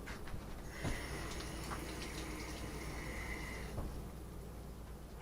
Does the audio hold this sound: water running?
yes